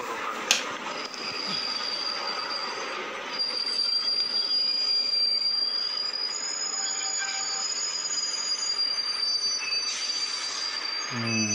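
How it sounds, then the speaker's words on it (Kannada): A train runs on rails through the Kashmir valley, its wheels squealing in a long, steady high-pitched screech over a continuous rumble, close and loud throughout. "ತುಂಬಾ ಟೆರರ್ ಟ್ರೈನ್ಗಳು ಓಡಾಡ್ತಾವ."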